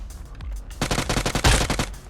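Rapid automatic gunfire in the mobile game PUBG Mobile, a dense burst of close, loud shots with a heavier blast near the middle, preceded by a few scattered sounds.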